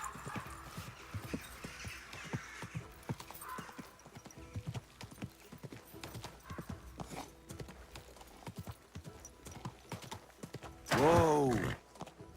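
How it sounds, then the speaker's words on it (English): Horse hooves clip-clop at a steady walking pace in the medieval game Kingdom Come Deliverance 2, soft and a little distant, and a short, louder horse whinny comes near the end. "Easy, good horse."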